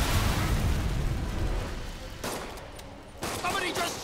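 Bursts of gunfire from Fisk's gang in the Marvel's Spider-Man video game, loud and dense at first with booming low rumble, then thinning into scattered sharp cracks amid game action.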